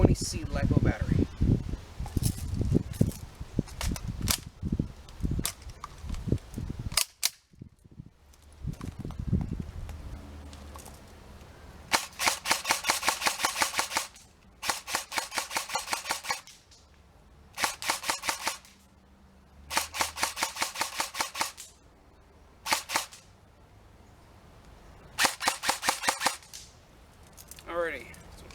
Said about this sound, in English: I'll do some shots on semi-auto and some shots on full auto so you guys can hear how it performs.